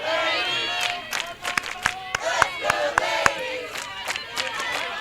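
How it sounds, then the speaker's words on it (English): At a college softball championship game, a crowd shouts and cheers while sharp, evenly spaced claps ring out in a steady rhythm, lively and fairly close. "fans clapping for their team"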